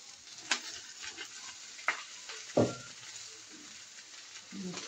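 Steak and two-minute noodles sizzle faintly in a warm pan during a stir fry, with a few sharp clinks and scrapes of stirring over the soft steady frying hiss.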